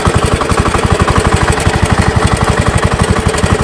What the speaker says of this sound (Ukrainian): П'яту передачу вмикаємо і повертаємо ліворуч